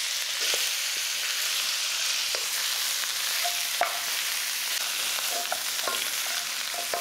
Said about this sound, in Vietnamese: mình tiếp tục cho hết lượng sườn vào. Đảo đều cho sườn thấm hành tỏi cho thơm ha.